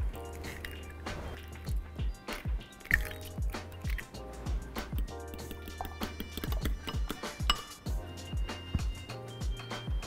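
Three eggs are prepped for eggy fried rice, giving close, irregular wet clicks, drips and squishy taps that come in quick succession over a low background hum.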